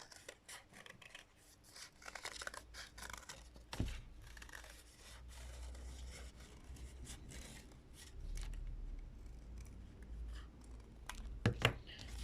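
Scissors cut through folded card for making pompom card doughnuts, a run of soft snips and rubbing scrapes at close range, quiet overall with a couple of sharper cuts near the end.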